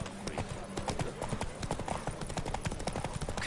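Horses gallop in The Witcher 3 video game during a race, hooves drumming in a fast, dense, overlapping clip-clop rhythm, loud and close throughout.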